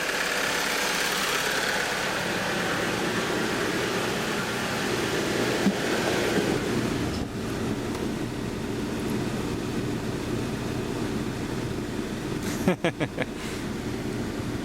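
An engine idles steadily throughout with its alternator running, a constant low hum and broadband rumble, with a few brief clicks and knocks near the end.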